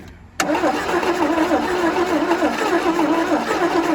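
An abandoned 1977 Chevy Camaro engine cranks over after a quiet moment, the starter whirring in a loud, rhythmic churn that continues steadily without catching.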